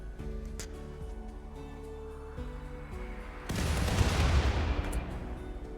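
In the RimWorld video game, a mortar volley goes off: a few sharp reports ring out, then a heavy, sustained burst of booming blasts crashes in and slowly rumbles away, with no talking.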